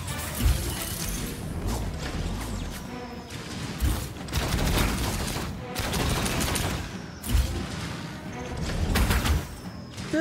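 Rapid bursts of gunfire aimed at the player in the video game Outcast: A New Beginning, dense mechanical rattling volleys and clanks repeating across the stretch, loud and close, with game action layered throughout.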